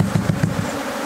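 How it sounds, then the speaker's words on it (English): A mass of aggressive bees streams out of a disturbed hive, producing a dense, close buzzing hum with repeated low pulsing swells through a brief moment. "see how aggressive these bees are, how many come out"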